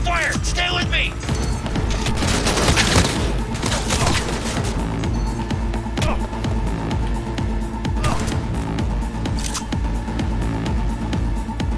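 Heavy, continuous gunfire rattles through a Cyberpunk 2077 firefight, dense overlapping shots and impacts held at a steady loud level, with game voices and a player talking over it.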